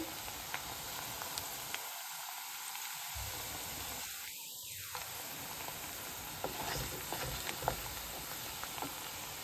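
Garlic frying in hot oil with spinach greens, a steady soft crackling sizzle throughout with faint clinks of stirring, fairly quiet and uninterrupted by voices.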